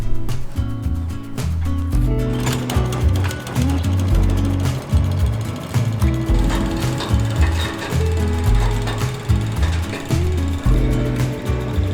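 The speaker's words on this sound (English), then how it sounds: "Anyway, let's get a mowing." A reel mower cutting a low-mown perennial ryegrass lawn in winter, its spinning blades clattering in a loud, dense rhythmic whirr with repeated metallic ticks, close and continuous throughout.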